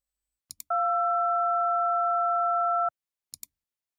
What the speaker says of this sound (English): the one we have here is the Dmf tones